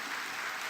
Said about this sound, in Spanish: Un aplauso para ellos que han luchado incansablemente por todo esto.